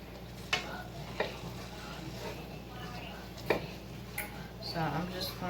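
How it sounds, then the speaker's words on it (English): Taco filling browning in a pan, stirred with occasional sharp utensil taps and scrapes over a soft, steady sizzle, fairly close and quiet. "stir it in, because now you see that it's starting to get brown"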